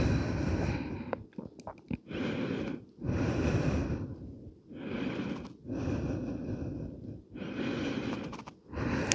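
Slow, deep breaths during a seated forward-fold stretch, about four long inhale-exhale cycles heard up close with soft airy rushes and brief pauses between them, no talking.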